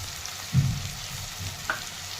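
Fenugreek leaves fried and stirred in a pan with coriander-cumin powder, homemade masala and turmeric for Nilanga rice, giving a soft, steady sizzle with a brief louder scrape of stirring and one short clink.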